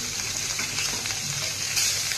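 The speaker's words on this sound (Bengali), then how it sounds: "কড়াইয়ের মধ্যে সর্ষের তেল গরম করে প্রথমে কাতলা মাছের পেটির পিসগুলো এপিট ওপিট একটু লাল করে ভেজে তুলে নেব" Katla fish belly pieces fry in hot mustard oil in a wok, giving a steady, close, dense sizzle with faint crackles throughout and no talking.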